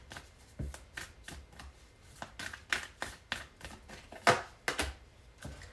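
Oracle cards being shuffled for a tarot reading, a quiet, close run of quick papery riffles and soft slaps in an irregular rhythm, with no talking.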